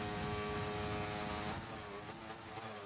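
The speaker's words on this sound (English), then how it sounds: "Dace revs up the engine and away he goes" A race car engine at Monza in a racing game revs with a bright harmonic whine that holds, then drops away and fades into quieter track noise.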